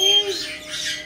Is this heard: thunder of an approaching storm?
no